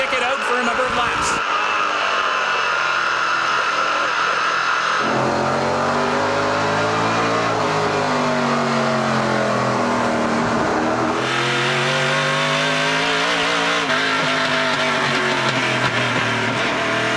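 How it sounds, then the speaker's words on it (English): Stock cars roar around the track in a NASCAR Pinty's Series race, the Luxuur 300, with engines rising and falling in pitch as they pass, loud and continuous, under a commentator's voice. "Those are really good race cars he's battling with."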